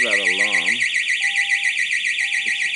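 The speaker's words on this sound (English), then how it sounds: "There's a huge noise going off. You can hear that alarm." A storage facility alarm blares outdoors at night, loud and continuous, its wavering electronic tone rising and falling steadily, while someone talks over the start.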